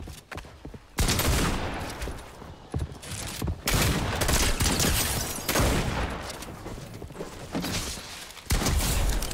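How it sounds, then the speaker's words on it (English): Gunfire in the Fortnite video game: loud bursts of rapid shots, repeated several times across the stretch with brief gaps between volleys, close and dominant with no talk over it. "Who's shooting?"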